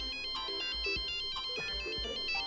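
A mobile phone ringtone plays an electronic melody of repeated bright tones, ringing steadily and fairly loud for a couple of seconds as a wife's call comes in.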